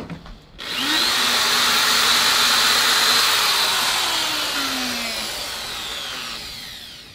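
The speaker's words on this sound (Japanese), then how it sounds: "電動ドライバーのビットにドリルを使って穴を開けていきます" An electric screwdriver fitted with a 2.5 mm drill bit bores into scrap wood on an apartment balcony, a close, loud whirring that starts abruptly and holds steady for several seconds before slowly winding down.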